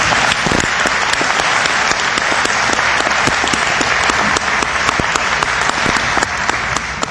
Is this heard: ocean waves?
no